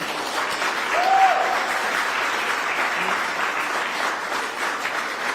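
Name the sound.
audience applause for the mayor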